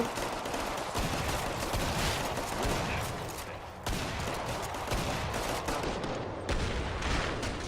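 Dense shotgun fire in Killing Floor 2, loud near blasts overlapping in a continuous rapid barrage with brief gaps, set against game combat noise throughout.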